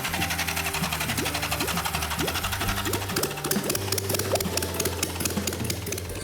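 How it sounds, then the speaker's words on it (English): Motorcycle engine on a garage bench, run with no fuel tank or exhaust, fires up on electronic ignition and settles into a loud, rapid, rattling idle with a fast mechanical clatter throughout. "As soon as I put power to that red wire, like a light switch, it started right up"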